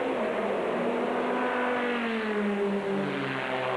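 GT race cars, a Dodge Viper and a Porsche, roar past on a circuit, their engines a loud continuous drone with pitch shifting through gear changes, no voices over it.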